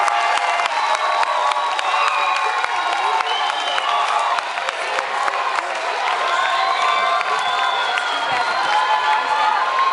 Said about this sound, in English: we'll have to give one more applause to the actors